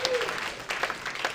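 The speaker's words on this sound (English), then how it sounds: "Round of applause for Tabard." Audience clapping at a tech startup demo night in San Francisco, a brief burst of moderate applause in a room, with a voice briefly heard at the start.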